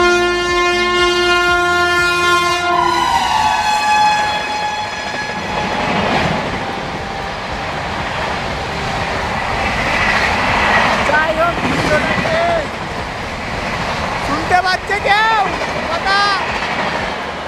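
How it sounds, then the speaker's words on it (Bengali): Local trains pull into Madhu Sudanpur railway station on the Howrah line, a loud horn blast opening before rumbling wheels, rail clatter and squealing brakes fill the rest, with some voices mixed in. "আবার একটা লোকাল ট্রেন চলে এসেছে"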